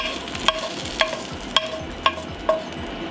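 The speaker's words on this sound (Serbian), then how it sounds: "Plavi patličan dodajte iz 2-3 puta da se lepo proprži sa svih strana." Eggplant frying in a pan with a steady low sizzle, broken by five regular, sharp clinks of a utensil on the pan about half a second apart.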